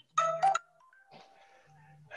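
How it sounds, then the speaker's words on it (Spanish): A telephone ringtone chimes in a short melodic burst, then fainter tones follow, near and clear in a quiet room. "perdón por el teléfono"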